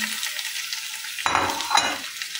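Chicken gizzards dropped onto sizzling peppers and garlic in a pan, a steady frying hiss that swells suddenly as they go in, with a second surge of crackling shortly after.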